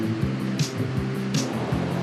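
Steady, loud roar of ocean waves breaking on a Landes beach break in France, a continuous wash of surf with brief hissing surges.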